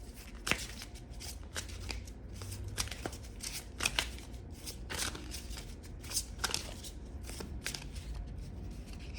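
A deck of 21 Division Tarot cards being shuffled, with repeated crisp riffling snaps and soft card slides in an uneven, continuous rhythm, close and clear.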